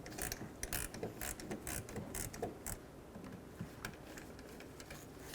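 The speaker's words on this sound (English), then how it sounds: "So grab a 10mm wrench and loosen this up." A 10mm wrench works loose the negative battery terminal on a 2007-14 Chevy Silverado, giving close, quick ratcheting clicks and metallic ticks in an irregular burst that thins out toward the end.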